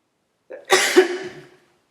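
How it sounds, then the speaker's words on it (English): A single short, throaty cough, close and clear, with silence before and after. "she did mention that she had flu, so that's why I'm coughing"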